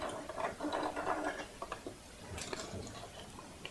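Faint sewing machine stitching rickrack onto a gingerbread man softie, quick ticking, ratchet-like clicks in uneven bursts heard close with no talking.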